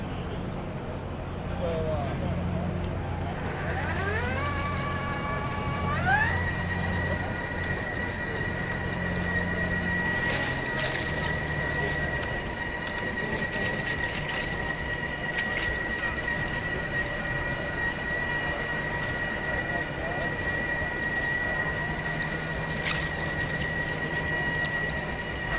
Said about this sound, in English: MX Fuel walk-behind trowels, and I'll run this one for you to see.